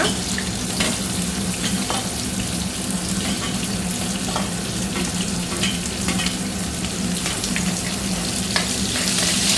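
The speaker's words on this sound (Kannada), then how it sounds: "ಸ್ವಲ್ಪ ಫ್ರೈ ಆಗಲಿ ಇದು." Chopped onion and curry leaves frying in hot oil in a pan, a dense, continuous sizzle with scattered crackles and occasional stirring, close and fairly loud.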